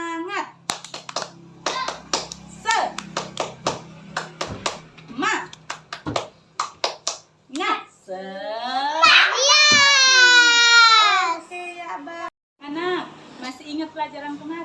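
A school class performs the tepuk semangat clapping chant, with children's voices calling out in rhythm and sharp group claps in quick bursts, then a long sung or shouted phrase from the kids near the end.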